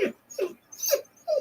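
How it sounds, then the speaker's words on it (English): Dogs whining and whimpering indoors nearby, a rapid series of four short, high, rising whines with brief gaps between them. "the dogs know I'm in here now. I just heard them whine"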